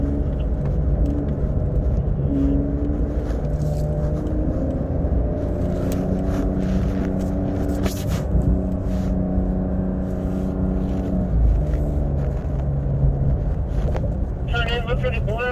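Porsche engine droning steadily while driving on a track, a continuous low rumble with gear and throttle shifts in pitch, while someone talks over it throughout.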